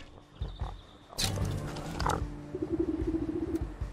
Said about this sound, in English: Can hear the runny swine squealing.